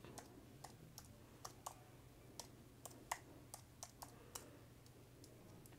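Typing on a Bluetooth keyboard paired with a Google Pixel tablet, a run of distinct close key clicks at an uneven rhythm, about fifteen taps over a quiet background hum.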